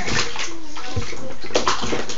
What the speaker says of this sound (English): Okay, stop kicking the water.